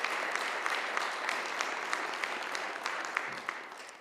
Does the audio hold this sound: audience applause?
yes